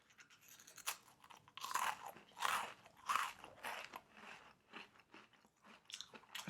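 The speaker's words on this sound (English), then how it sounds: "Listen to this crunch." A crunchy cookie is bitten and chewed close to the mic in ASMR style, giving several sharp crackling crunches followed by softer chewing, loud and intimate with no talking.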